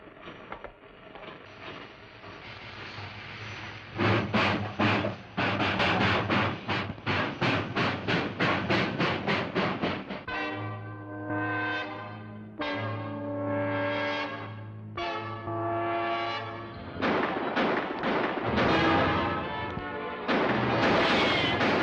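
A large train engine smashes through a roadblock in an old Western TV drama, with loud rhythmic chugging and clattering that swells into heavy bursts and pulses, dense and close throughout.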